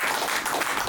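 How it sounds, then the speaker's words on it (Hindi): An audience at a leaders' meeting claps in a dense, steady burst of applause, loud and continuous for under a second. "हम चाहेंगे मैम के लिए एक बार जोरदार ताली।"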